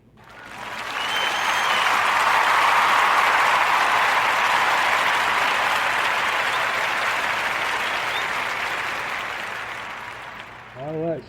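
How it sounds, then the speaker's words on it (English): A podcast audience gives a warm round of applause for two sisters retiring as public school educators. The dense, loud, steady clapping swells quickly, holds, then slowly tapers off. "Let's put our hands together and give these two sisters a Warm Narrative podcast round of applause for all their years as educators in the public school system."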